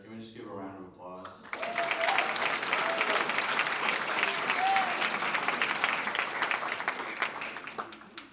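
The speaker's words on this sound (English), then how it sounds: "Can we just give a round of applause?" Loud, dense audience applause fills an awards ceremony hall, rising suddenly after a brief spoken line and holding steady for several seconds before tapering slightly at the end.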